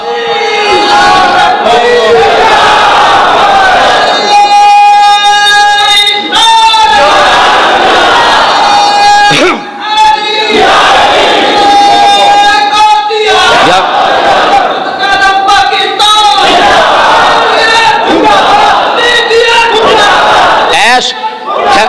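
A large crowd at a religious sermon about Karbala shouts slogans in unison, loud call-and-response bursts of voices that swell and drop in repeated waves.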